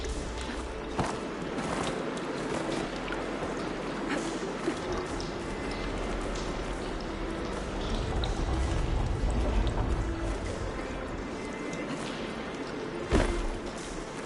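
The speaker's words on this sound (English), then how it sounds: "Get that water circulating." Water rushes and gurgles through pipes in the video game Horizon Zero Dawn, a dense, steady flowing wash with a few thuds and clanks, rising slightly midway, with no talk.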